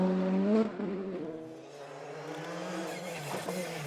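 A VW Polo rally car on a Galway International Rally stage, its engine revving hard and shifting as it passes nearby, loud and steady with a brief drop in pitch midway.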